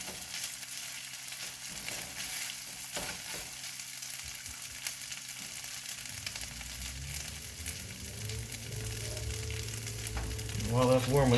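Rice fries in melted butter in a pan, a soft steady sizzle that swells louder toward the end, with scattered clicks and scrapes and no voices.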